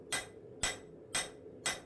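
A hammer smooths forged steel for a rifleman's knife on the horn of an anvil, with four sharp, evenly spaced ringing strikes about half a second apart, close and clear with no talk.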